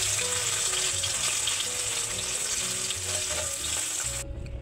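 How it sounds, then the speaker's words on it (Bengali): Puti fish fry in hot oil in a wok, a dense, steady, loud sizzle that holds throughout and drops away right at the end, with no talk. "বাকি মাছগুলো একই রকম করে ভেজে নেব"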